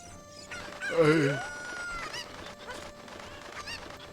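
Cucco chicken from a Zelda video game giving a loud, rising crow-like squawk near the start, then softer repeated clucks under game background sounds.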